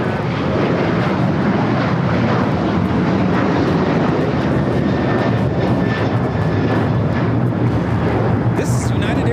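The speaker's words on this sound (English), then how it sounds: "This is United Airlines 1260 taking off to Denver, Colorado on the 737-900ER." A United Airlines Boeing 737-900ER jet roars on its takeoff roll and climb at LAX, a loud continuous engine rumble with whining tones, close and sustained throughout.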